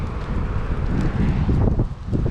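Gusty wind buffeting the microphone, a constant low rumbling roar with irregular surges and no voices.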